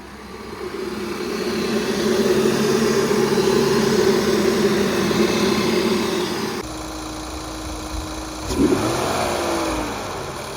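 An Infiniti Q50 undergoing a rebuild runs after being started, its engine giving a steady, fairly loud hum for several seconds before the sound drops to a quieter idle with a short mechanical bump.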